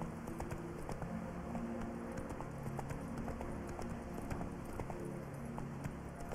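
Roach, Geralt's horse in the video game Witcher 3, gallops with a steady, rapid clip-clop of hooves, rhythmic and fairly quiet, under a faint background hum.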